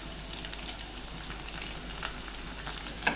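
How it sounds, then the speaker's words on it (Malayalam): Sliced onion frying in a pan for a tomato and curd curry gives a continuous, fairly quiet sizzle and crackle, with a few faint stirring ticks and no speech. "ഇത് നല്ലോണം ഇളക്കി വഴറ്റിയെടുക്കാം."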